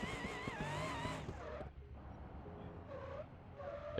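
Brakes lock up on a car in the BeamNG Drive racing game, and the tires skid with a squealing screech over engine drone, then short squeals return in bursts as the car settles.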